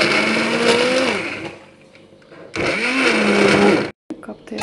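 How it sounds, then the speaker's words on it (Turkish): A kitchen blender purees vegetable soup for babies aged 7 to 8 months, whirring loudly in two bursts split by a quieter pause, with a brief cut near the end and speech mixed in. "Onu blenderdan geçeceğim."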